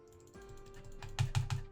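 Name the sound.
computer keyboard spacebar being tapped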